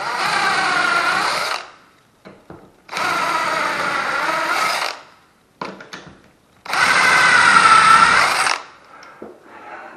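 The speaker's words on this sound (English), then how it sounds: "screw hole driller" A power drill boring new screw holes into a wooden door whose old holes were plugged with dowels and glue, running in three loud whining bursts of about one and a half to two seconds each, separated by brief pauses with small clicks.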